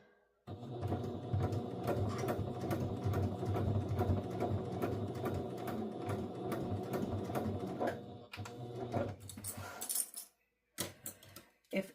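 A sewing machine stitching a zipper coin pouch, a steady fast mechanical whirring and ticking for several seconds, then stopping, followed by a few clicks and handling knocks.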